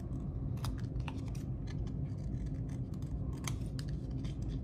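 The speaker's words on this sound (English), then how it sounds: "you're just going to cut off the corners." Scissors snip repeatedly at the corners of a paper square for a kindergarten Halloween art lesson, giving crisp close cuts and rustling paper in an irregular rhythm over a low steady background hum.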